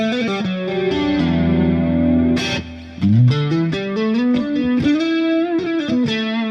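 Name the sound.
electric guitar clean chorus tone, slightly broken up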